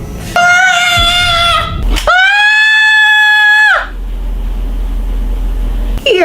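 A girl in a classroom lets out two long, loud, sustained screams, each held for over a second with a brief gap between them.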